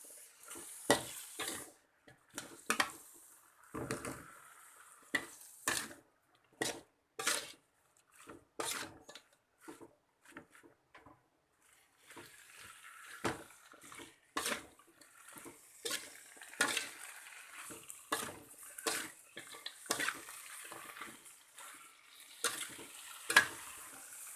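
Quiet sizzling of kailan and tomato in a hot pan, broken by frequent scraping and clacking as they are stirred.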